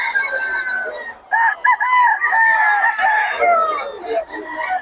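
A Boston Roundhead gamefowl rooster, a two-year-old national-banded bird at a market, crows and clucks close by in repeated loud calls with brief pauses, with no talk over it.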